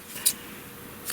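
Two quick, crisp snips of scissors cutting light teal twine, close and fairly quiet in an otherwise still room, spaced under a second apart.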